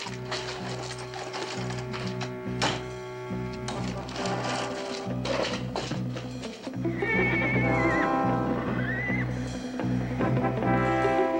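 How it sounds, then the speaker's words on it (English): A horse whinnies with rising, wavering cries over a dense, busy backdrop of music and ambient noise, the neighs standing out in the later half. "Sounds like something's spooking the horses."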